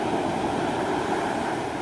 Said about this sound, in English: This beach is a little dangerous. It's very high waves.